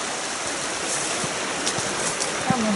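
River water rushing steadily along the Rio Majaceite trail in Andalusia, a broad continuous noisy wash close by with faint scattered ticks and a brief tonal squeak near the end.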